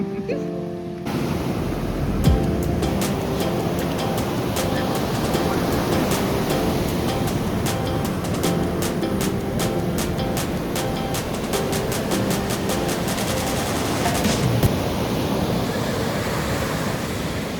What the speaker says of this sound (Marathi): आमच्या समोर अफाट असा समुद्राच्या लाटा आमच्याकडे येताना दिसत आहेत